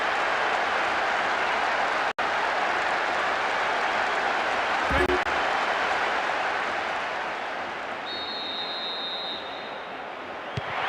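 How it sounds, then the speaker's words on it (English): A stadium crowd in the football game PES 2007 reacts after a goal, a broad, steady roar that eases slightly toward the end, with a brief sharp click partway through. "most of the crowd not happy about that goal"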